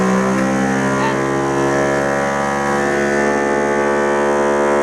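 A Jiutu mini OCA laminator machine runs its vacuum pump during an iPhone 6 Plus LCD screen repair, a steady loud droning hum with many stable harmonic tones that holds unchanged throughout.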